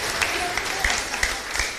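A congregation at a chapel Mass claps in a steady, moderately loud wash of applause, with a voice faintly heard over it.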